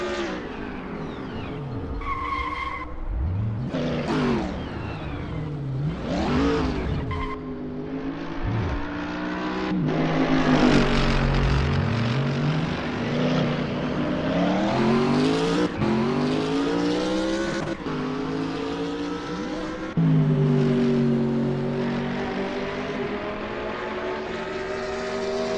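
GT3 race cars, including a BMW Z4, lapping Brands Hatch GP in a racing video game: loud continuous engine roar with rising and falling revs, downshifts and tyre skids, several cars close together with no talk.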